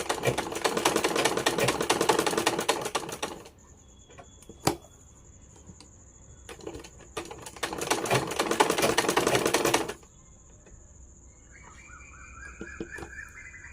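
A sewing machine runs through fabric in two long, rapid bursts of rattling stitches, close and loud, separated by quieter handling noises, with a faint chirping sound near the end.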